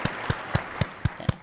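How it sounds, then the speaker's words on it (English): Six evenly spaced claps ring out, each sharp and broadband with a low thump, spaced about a quarter second apart, sounding like a single person clapping in slow rhythm rather than a full crowd. "A big round of applause for your president and your government."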